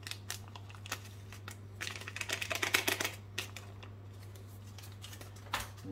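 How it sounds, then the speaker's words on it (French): Milk being stirred into lemon cake batter in a bowl, heard as scraping and clinking strokes in irregular bursts, loudest mid-way, over a steady low electrical hum with no talking. "Dans un premier temps, on va venir mélanger nos deux éléments."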